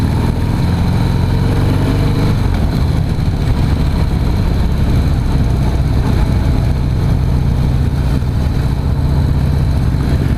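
A 2016 Harley-Davidson CVO Pro Street Breakout rumbles steadily at close range on a ride, a deep continuous engine drone with a slight change in tone early on, with no talking over it.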